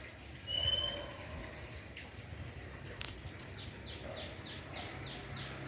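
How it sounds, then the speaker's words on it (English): Exotic birds at a feeding spot give faint, rapid repeated chirps in a quick series over a steady background hiss, with a few scattered calls before. "Some birds singing for you."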